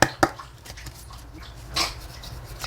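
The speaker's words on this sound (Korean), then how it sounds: "강아지 소리 조금 들어갈 수 있어요?" A puppy gives a couple of sharp high whimpers at the start, then a softer whine later, faint and close-by over quiet room noise, with no speech.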